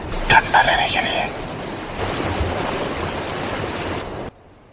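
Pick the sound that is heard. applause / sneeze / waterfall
waterfall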